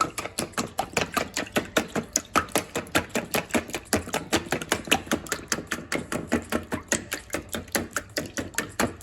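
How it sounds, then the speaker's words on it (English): An old-school whisk beats eggs in a bowl for breakfast egg bites, a fast steady run of sharp rhythmic clicks and taps against the side, close and continuous, with no talking. "I have my old school whisk, and we're going to whisk."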